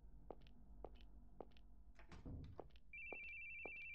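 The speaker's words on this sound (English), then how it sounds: "The phone is going off." A telephone rings in a horror RPG video game, repeating short electronic bursts at a steady rhythm with a sustained tone entering near the end, faint and alone without speech.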